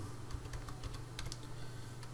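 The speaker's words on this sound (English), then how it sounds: "going back to our calculator, helps if I type equals" Calculator keys pressed in a quick run of light, close clicks over a steady low hum, with no voices.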